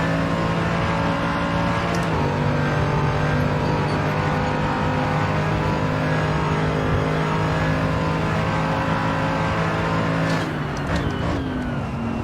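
A Mercedes AMG GT3 race car at Daytona accelerates hard down the straight, its engine roaring loud and close with a steady rising drone and a gear change partway through.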